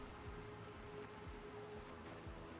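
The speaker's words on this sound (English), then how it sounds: "it's going to be raining from now on" Steady rainfall in the survival video game Planet Crafter, a continuous, fairly quiet wash of hiss with no voices, over a faint steady hum and soft low thumps recurring about once a second.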